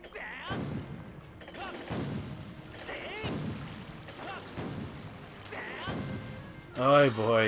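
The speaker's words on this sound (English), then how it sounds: "You gotta hit it with the ship with the cannons in order to find it." Ship cannons fire in The Legend of Zelda: Skyward Sword near a pirate fortress, a series of heavy booming thuds spaced about a second apart, with a louder blast at the end and someone talking throughout.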